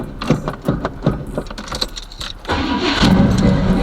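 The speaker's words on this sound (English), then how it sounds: "See how long it'll take for the car to crank up." Box Chevy car with a choppy cam cranks in rapid chugging bursts for about two and a half seconds, then fires and roars into a loud, lumpy idle, recorded up close with no speech.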